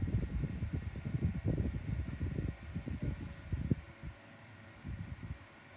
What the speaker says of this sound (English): They both blow a good amount of air, but the Igenix is stronger.